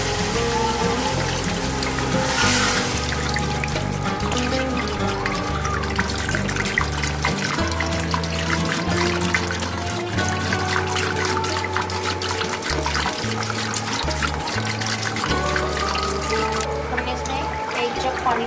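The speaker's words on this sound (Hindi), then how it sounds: "अब हम इसके अंदर पानी ऐड करेंगे" Water gushing and splashing steadily into a pot of nihari meat and oil, continuous and close, with sizzling and clinking under a background of talk.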